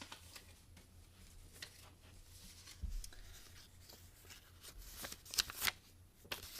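Homemade paper music note cards handled and shuffled close by, soft papery rubbing and flicking with a few sharper snaps near the end, quiet and without talk.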